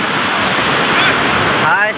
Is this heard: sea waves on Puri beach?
yes